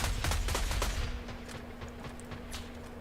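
Gunfire in the Fortnite video game from a sniper rifle with slow bullets and almost no drop: a burst of sharp shots in the first second, then quieter scattered reports over a steady hum.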